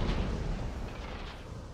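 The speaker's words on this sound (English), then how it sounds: "Medium cannon." A medium cannon fires in a Napoleon: Total War British campaign battle: one deep boom right at the start, its rumble fading away over the next second or so.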